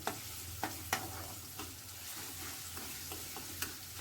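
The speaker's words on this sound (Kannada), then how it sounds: "ಒಂದು ಸ್ಪೂನು ಬೆಳ್ಳುಳ್ಳಿ ಪೇಸ್ಟ್ ಹಾಕ್ಕೊಡಿ ನೋಡಿರಿ ಎಣ್ಣೆ ಒಳಗೆ" Steady close-up sizzling of a spoonful of garlic paste frying in oil, with a few sharp clicks and scrapes from stirring.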